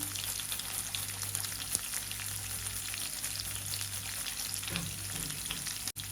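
Chopped onion and grated ginger frying in oil with dried red chilli, bay leaf, curry leaves and asafoetida for sambhar, a continuous close crackling sizzle with a faint stir and one sharp click near the end.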